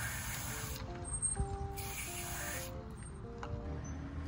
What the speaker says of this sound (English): And you just spray it inside here.